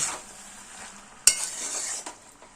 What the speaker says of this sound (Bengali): এবার আদাটাকেও এই আলু পেঁয়াজ কলি ডিমের সঙ্গে ভালোভাবে মিশিয়ে দিচ্ছি।